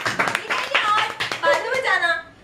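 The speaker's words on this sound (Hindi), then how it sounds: "तालियां बजाना" An audience claps in quick bursts while voices and light laughter mix in close by, the clapping and chatter overlapping through the short stretch.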